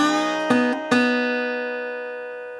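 Slide blues guitar in standard tuning played without string muting. A few quick attacks land on ringing open strings that keep sustaining and humming together, then fade slowly, with no talk over them.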